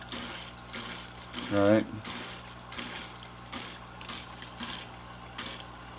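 A hang-on-back aquarium filter starts up, giving a short gurgling burp of water, then low flowing and trickling with faint buzzing hum beneath; a person speaks briefly nearby.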